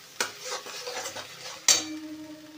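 A sesame, mustard and poppy seed paste with black cumin gets stirred in a wok. A spatula scrapes and knocks against the metal twice over a faint sizzle.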